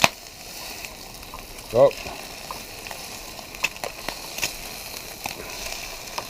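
Spam and eggs fry in a pan with a steady low sizzle, broken by a few short clatters and one brief exclamation.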